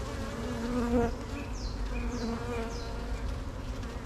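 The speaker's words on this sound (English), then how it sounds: "She keeps getting buried underneath this mass of bees right here." Carniolan honeybees massed around their queen, a dense close buzzing swarm with faint, brief bursts of air blown over them.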